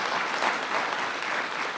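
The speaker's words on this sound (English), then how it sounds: "can we give a round of applause to your faculty?" An audience at a graduation ceremony claps for the faculty in a dense, steady burst of applause that fills the hall without a break.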